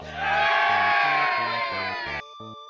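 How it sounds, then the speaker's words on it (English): A large crowd cheers and whoops enthusiastically for about two seconds over a pulsing low beat, then cuts off abruptly and leaves a brief tonal tail. "Enthusiastic cheers."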